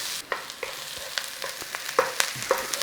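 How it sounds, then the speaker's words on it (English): Chicken thigh pieces coated in turmeric sizzle and fry in a pan for a curry, with crackling spits, several stirring scrapes and soft clinks close up, no voices. "We want a little bit of colour on this, so give it a little fry."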